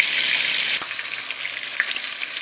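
Fish frying in a pan of hot oil: a steady, bright sizzle with small pops and crackles, close and constant, no voices.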